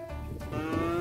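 A cow lets out a brief, low, tonal moo that rises in pitch, loud and near, with a faint hum of background noise.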